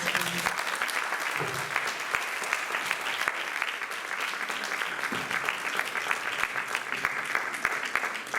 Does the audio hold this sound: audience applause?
yes